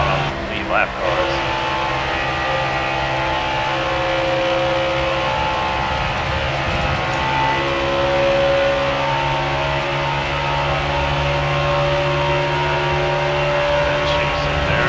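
ARCA race cars droning loudly around the track at Texas while catching lapped traffic, a steady sustained engine roar with shifting pitch, under occasional talk.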